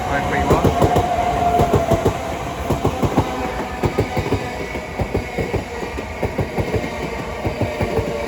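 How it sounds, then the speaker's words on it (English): A pair of Southeastern Class 376 electric units passes through New Cross station on the South Eastern Main Line, bound for Gravesend. Loud, close, rhythmic wheel clatter over rail joints builds beneath a steady rolling rumble. "Soon to pass through now will be a South Eastern pair of 376s going from London Charing Cross to Gravesend."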